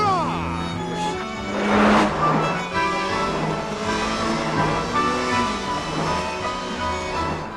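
A Ferrari driven in a film scene revs and roars nearby, its engine note rising and falling through the gears with a brief tire squeal, over a background music bed.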